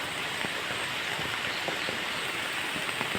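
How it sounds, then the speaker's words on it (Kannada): Rain falls steadily on a waterlogged banana plantation where the ground has turned into a pond, a continuous near hiss with scattered heavier drops and no voices. "ಮಳೆ ಬರ್ತಾ ಉಂಟು."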